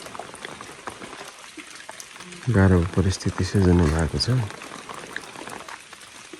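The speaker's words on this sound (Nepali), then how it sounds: "पानी परिरहेको छ" Steady morning rain on a hill at Ghodabas makes a constant broadband patter and hiss, with someone speaking over it for a few seconds.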